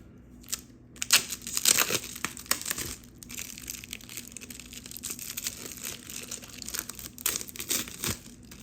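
A plastic seal wedged under an olive oil bottle cap is pried and peeled away, producing close, irregular crinkling and crackling bursts with brief pauses between them.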